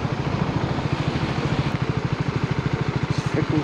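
A KTM 250 motorcycle idles in cold weather with a fast, even low chugging pulse, close and steady throughout, with no talking.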